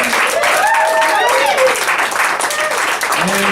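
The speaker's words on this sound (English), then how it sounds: "Round of applause for Whitney." An audience at a showcase performance applauds loudly and continuously for a performer, with whoops and cheering voices rising over the dense clapping.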